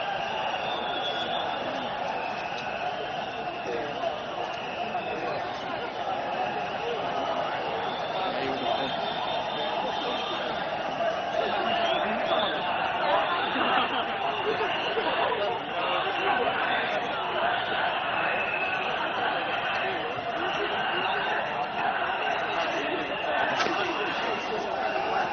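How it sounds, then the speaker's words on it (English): A large crowd leaving a Workers' Party election rally at Jalan Besar keeps up continuous loud chanting and cheering, a steady dense roar of many voices with no pauses. "You can hear huge chants in the background. People are cheering the Workers' Party candidate as they leave the rally ground."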